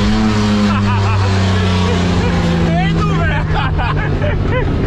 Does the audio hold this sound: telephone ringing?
no